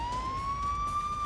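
An air raid siren sounds over Kyiv early in the morning, a steady rising wail with strong harmonics over a low background rumble, continuous and fairly loud.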